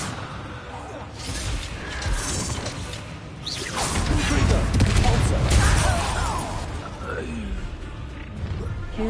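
A Confringo blasting spell goes off in Hogwarts Legacy, a loud whooshing burst that swells to a rumbling crash midway and lingers over scattered game effects and background voices.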